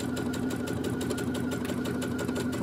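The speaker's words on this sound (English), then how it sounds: "you're going to ease stitch the sleeve between the notches" A domestic sewing machine ease stitches sleeve pieces between the notches, running steadily and closely with a fast, even mechanical whir and rapid needle clatter throughout.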